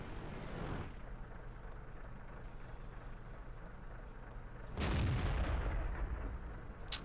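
A single heavy tank cannon blast from a Type 58 tank in World of Tanks booms out midway over a constant low engine rumble, followed by a faint sharp crack at the very end.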